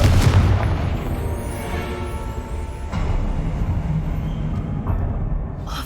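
A Confringo spell in Hogwarts Legacy goes off with a loud, deep boom at the start and a rumbling decay, followed by a second heavy thump and a lingering low roar.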